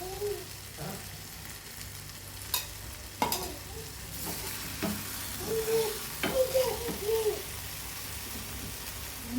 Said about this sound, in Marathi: याला ना तूप टाकून भाजूया, म्हणजे टेस्ट छान येईल.